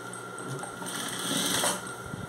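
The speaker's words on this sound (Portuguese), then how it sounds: "Aí eu vou costurar em cima dessa escura." A sewing machine stitches fabric strips onto a rag rug, a steady close whirring drone with fast needle chatter that swells briefly in the middle, with no voices.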